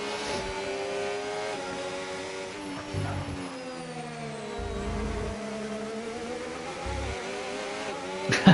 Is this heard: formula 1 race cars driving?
yes